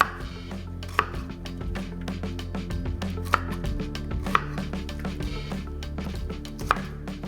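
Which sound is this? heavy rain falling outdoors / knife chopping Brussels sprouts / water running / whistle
knife chopping Brussels sprouts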